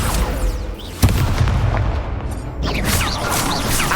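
An Incendio fire spell cast in Hogwarts Legacy, a sharp burst followed by a roaring, crackling rush of flame, then a second swelling whoosh, loud and close.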